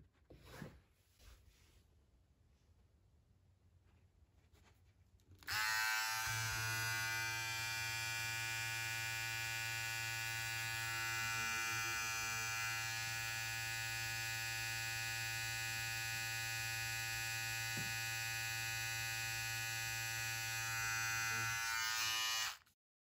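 Philips Multigroom trimmer, not new, switched on after a few seconds of quiet handling noise, then a steady, loud, close electric buzz with a bright whine, running evenly for about seventeen seconds before cutting off.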